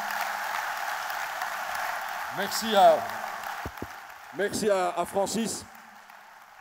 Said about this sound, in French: vous pouvez l'applaudir chaleureusement